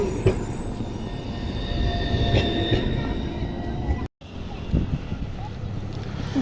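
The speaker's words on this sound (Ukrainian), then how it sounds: "Пока-пока, трамвай, пока-пока." A tram rumbles past with a steady rolling drone and faint metallic wheel squeal, then a brief dropout before the street noise continues.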